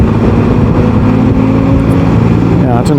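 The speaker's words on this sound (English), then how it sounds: "I don't know if you can hear this car in front. It just sounds absolutely fabulous." A car engine drones steadily just ahead, heard from a Can-Am Spyder on a countryside ride out, loud and constant under rushing wind noise.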